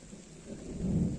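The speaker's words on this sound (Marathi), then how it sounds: "हे बघा पाऊस दिसत असेल तुम्हाला पडताना" Rain falls steadily on a rural road toward farm fields with a low rumble of thunder rolling underneath, building slightly toward the end; no one speaks.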